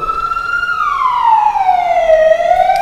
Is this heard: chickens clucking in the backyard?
no